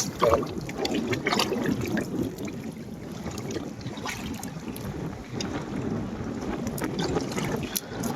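River water and waves churn steadily under strong wind buffeting the microphone on a cloudy day, a continuous broadband rush with gusty low rumble throughout, close and fairly loud, no speech.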